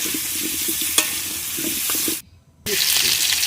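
Turmeric hits hot oil in a pan with a steady, close sizzle and some stirring clatter, briefly cutting to silence before the loud frying hiss resumes.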